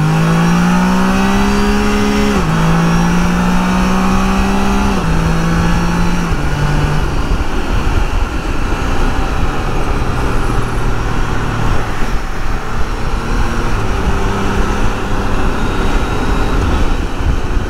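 A Can-Am Spyder RT three-wheel motorcycle accelerating hard on a high-speed test track, its loud, close engine note climbing in pitch through several gear changes, then holding a steady, droning run at speed.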